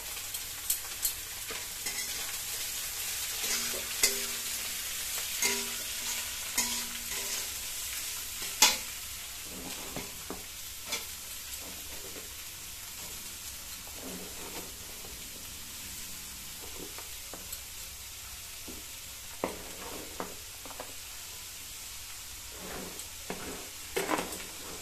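Cabbage and carrot frying with onion and ginger in a pan, a continuous sizzle broken by repeated scraping stirs and a few sharp utensil clinks over about twenty-five seconds, with no talking.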